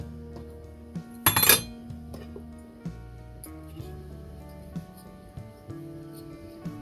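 A metal spoon clinks against a glass jar holding creamy green tomato pasta sauce, one bright rattling clink burst near, then quiet kitchen sounds with music underneath.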